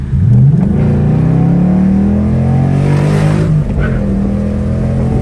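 A flooded Ford Mustang's engine revs hard while drifting, with the pitch climbing steadily, holding high, then dropping and picking up again. The engine is loud and close throughout, with no voices over it.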